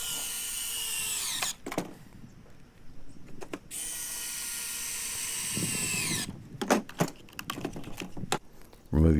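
A power drill whines in bursts while driving 2-inch wood screws into pallet wood for a sawhorse, with pauses and clunks of handling between runs, close and loud.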